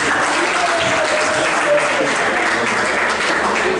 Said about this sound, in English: So clap for all of these students.